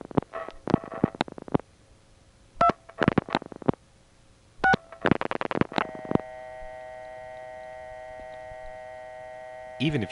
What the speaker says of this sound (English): Even if you can't decode touchtones, you probably know what I just dialed.